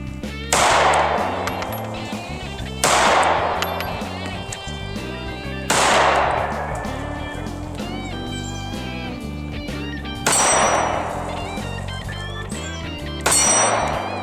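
Five sharp shots from an M&P9 Shield pistol crack out at uneven intervals, each with a ringing, echoing tail, over a steady tonal background hum.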